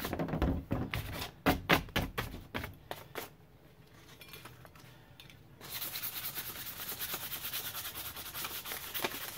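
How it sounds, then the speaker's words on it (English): Wiper arms from a 1995 Ford Ranger are lightly sanded by hand, a string of short scraping strokes giving way to a softer, steady rubbing hiss that continues close up, with no one speaking. "we're just gonna give these a light sand and then just a spritz with paint"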